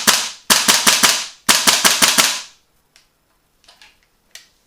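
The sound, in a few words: GHK G5 airsoft replica firing shots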